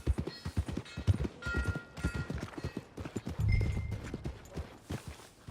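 Horse hooves clip-clop at a steady walking rhythm on a road in Red Dead Redemption 2, close and fairly loud, with a brief heavier rumble midway and faint tonal game sounds behind.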